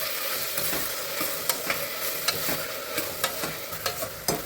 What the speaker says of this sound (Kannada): ಟೊಮೆಟೊ ಈರುಳ್ಳಿ ಫ್ರೈ ಮಾಡ್ತಾ ಇರುವಾಗ